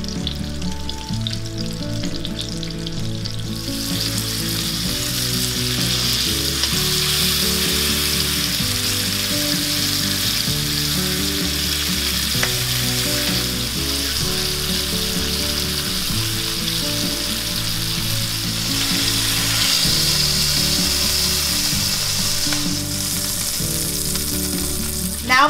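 Meat frying in olive oil in a large skillet, a loud continuous sizzle and crackle that stays steady throughout with no voices.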